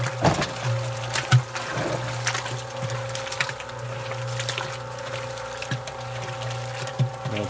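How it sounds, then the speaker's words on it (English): An electric mixer stirs clay slurry with a steady low motor hum, while the liquid sloshes and churns with small irregular splashes and knocks, close up and without talk. "Now I'm going to turn this on. Gonna let it stir for a little while."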